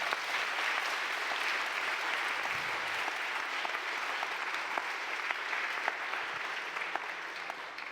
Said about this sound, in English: Big applause again for Mas, Dana, Fabian, and Ed